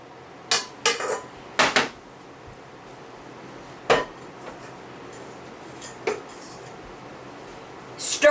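Batter of coconut oil, flaxseed, collagen, monk fruit sweetener and peanut butter being stirred in a bowl for brownies, giving a handful of sharp spoon-against-bowl clinks spaced irregularly over a quiet background.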